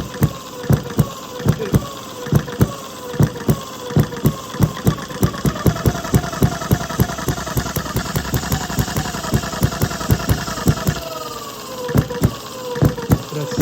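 A Retrol HM-01 hit-and-miss engine thumps alone in uneven bursts, a run of sharp firing beats, then coasting gaps before the next chugging strokes.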